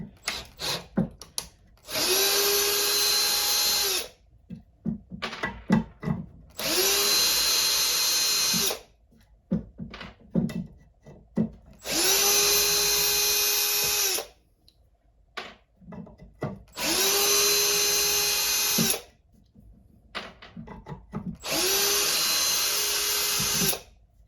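A Milwaukee power drill driving screws into wood, with five long, steady whining bursts separated by short pauses filled with clicks and handling noise, close and loud.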